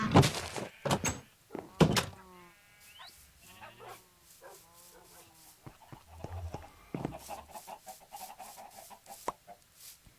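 Blocky chickens in the Minecraft video game cluck in short repeated bursts, with a few sharper thumps and bark-like sounds before and after; moderately loud and close.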